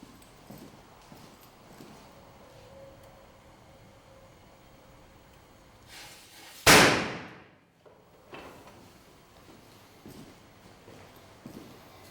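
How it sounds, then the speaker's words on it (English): A range-top fire suppression device bursting over a grease fire releases dry chemical powder with a single sudden loud pop and a brief rushing hiss that fades within a second, against quiet background noise. "after the device went off, it dropped the dry chemical onto the grease fire"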